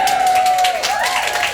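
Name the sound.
audience cheering and applauding at poetry reading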